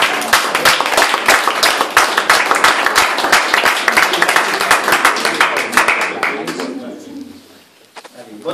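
A radio-show audience applauding: dense, loud clapping that carries steadily for about six seconds, then thins out and fades toward quiet near the end.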